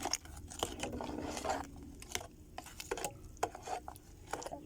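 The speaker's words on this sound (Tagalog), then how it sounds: "Halo-haloin lang natin para makuha yung buo-buo." Batter of sugar, flour and milk for kutsinta being stirred in a bowl, with soft irregular scraping and light clinks of a utensil against the bowl, close and fairly quiet.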